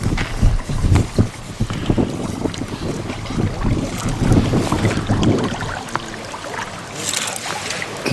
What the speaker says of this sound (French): Le vent qui monte